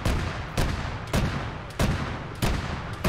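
Gunfire in the video game ARMA 3 comes as about six sharp, loud shots at a roughly even half-second rhythm, each with a short echoing tail, and no voices.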